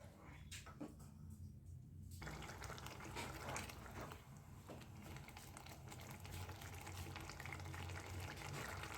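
Water added to an onion-tomato masala for dal makhani simmers and bubbles in a pot, a steady soft gurgling hiss broken by a few faint clicks, with no one speaking.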